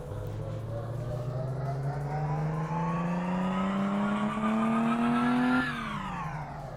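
A car driven in the game Car Mechanic Simulator 2014 revs steadily higher through one long, loud engine pull, then the pitch drops sharply as the throttle eases near the end.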